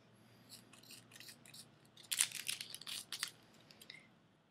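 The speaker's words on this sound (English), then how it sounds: "go ahead and cut it in two." Scissors snip through a pain-relief patch, starting with faint quick cuts that swell into a run of crisp, closely spaced crunching snips, then fall quiet.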